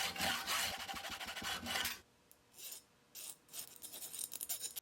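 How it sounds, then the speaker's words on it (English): Half the threads of a small flashlight switch screw are cut off, first as a loud, sustained rasping scrape, then as quieter, shorter bursts of filing strokes, close up with no talking. "we want to remove this screw and cut half of the threads off of it"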